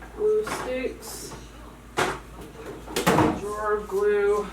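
Craft drawer full of glue and supplies being pulled open and pushed shut in a cluttered craft room, several hollow sliding thumps and knocks with a person talking over and between them.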